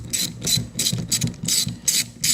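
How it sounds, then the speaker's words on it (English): Ratchet wrench loosening the last bolt on a Corvette fuel sending unit, a close, loud run of rapid metallic clicking bursts repeating in a steady rhythm with no talking. "here goes the last bolt for the sending unit"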